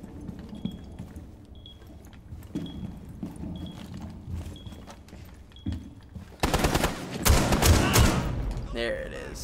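Gunfire in Rainbow Six Siege Black Ice, a shotgun opening up with a dense, loud burst of blasts near the end after sparse quieter shots and game noise, with a player talking over it.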